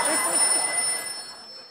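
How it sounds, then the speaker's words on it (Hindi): A telephone rings on a comedy stage show, a steady electronic ring with bright tonal lines lasting under two seconds and fading at the end, with voices and stage noise underneath. "भारती का फोन"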